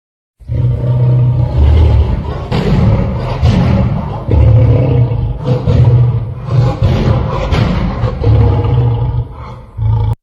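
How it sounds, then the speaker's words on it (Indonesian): Lion roaring loud and close, a series of deep, rough roars and grunts rolling on for about ten seconds, with no voices. "singa,"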